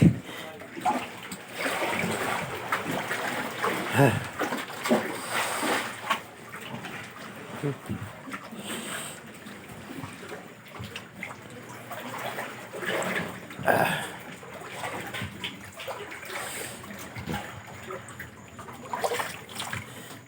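Floodwater from Typhoon Kristine splashing and trickling at close range, a continuous uneven wash of water with frequent louder splashes, while people talk over it in Filipino.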